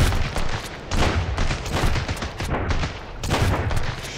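Rapid bursts of gunfire from the survival video game Sunkenland, several loud close blasts in quick succession with noisy decay between shots.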